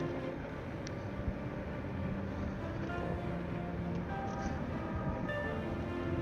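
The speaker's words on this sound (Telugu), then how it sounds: "ఆ ముందు చూడొచ్చు కదా, మెట్రో వెళ్తుంది" A Portland metro train passes through downtown, giving a steady, broad rumble that holds for several seconds amid street noise, heard from nearby at moderate loudness.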